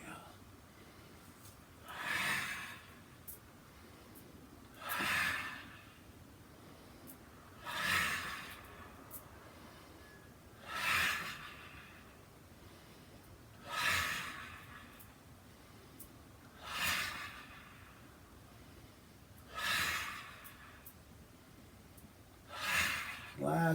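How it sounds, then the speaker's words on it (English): Slow breathing during a qigong exercise: about eight deliberate breaths come at steady intervals of roughly three seconds, each a soft airy rush close to the microphone, with quiet room tone between them. "Inhale, turn and exhale."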